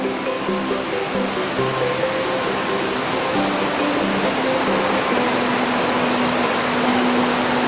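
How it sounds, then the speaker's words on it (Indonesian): Citerus River flowing steadily in Indonesia, a dense continuous rush of water that fills the scene at constant loudness with no talking over it. "Seperti inilah Sungai Citerus."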